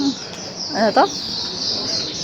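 Caged birds in Singapore give a couple of brief, close chirping calls against a steady background hiss.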